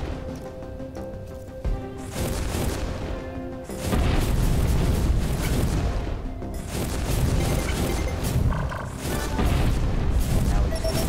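Missiles blast apart in the puzzle game Infinifactory, heavy booming explosions rolling one into another in dense, loud waves over a low game-music backdrop.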